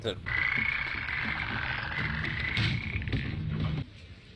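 Frogs croak in a scene from the TV show Fringe, a steady, continuous chorus running for several seconds at moderate loudness, with faint talk mixed underneath before it cuts off abruptly.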